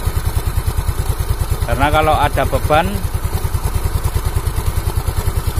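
Yamaha Mio scooter engine, recently repaired after smoking, runs with a steady, even, rapid pulse throughout, close and fairly loud, while someone speaks briefly partway through.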